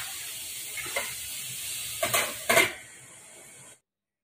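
Steady sizzling of papaya and fenugreek frying in a pan, with a few sharp scraping stirs standing out near the middle, then the sound stops.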